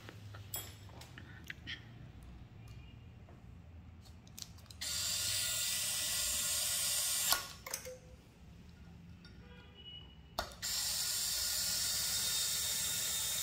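An ASA electric screwdriver spins a screw that turns freely without tightening. Quiet ratcheting clicks lead into two long, even bursts of high whirring separated by sharp mechanical ticks, all close and faint.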